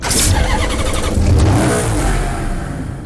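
A loud car engine in the video game Need for Speed Hot Pursuit revs hard and climbs in pitch, roaring up close with a throaty, gritty tone that eases slightly at the end.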